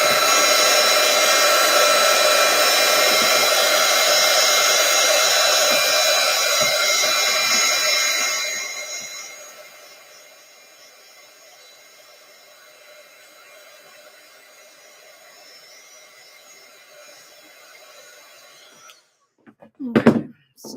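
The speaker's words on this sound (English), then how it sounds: "I'm gonna try and dry it a little bit with my little handy dandy heat gun." A small handheld heat gun blows steadily and loudly while drying watercolor paint for about eight seconds, then cuts off, leaving near silence before a short thump or two at the end.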